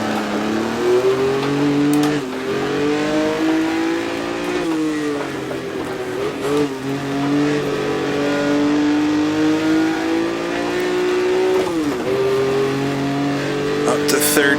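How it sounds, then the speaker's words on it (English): A 1958 Formula One race car in the Automobilista racing game revs continuously and close up, its engine pitch climbing and dropping through gear changes over about fifteen seconds, with someone commentating over it. "I think this car right in front of me now is Phil Hill."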